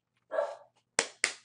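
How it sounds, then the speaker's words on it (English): A puppy barks three times in sharp, loud bursts, close by, after a brief whimpering whine, reacting to people walking down a hallway. "I have a puppy who doesn't like people walking down the hall."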